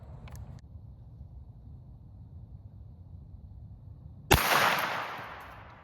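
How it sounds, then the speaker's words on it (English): A 9mm hollow point fired from a PSA AR-style pistol with a pistol brace: after a near-silent stretch, one sharp, loud shot cracks out and then rings and decays over the next second. "next up we're gonna shoot a 9mm hollow point out of this PSA 9mm AR style rifle, pistol"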